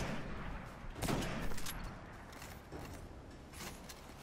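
Gunfire in a Destiny Nightfall mission sounds as a dense stream of distant, muffled shots and blasts over steady background game noise, with a stronger burst in the middle.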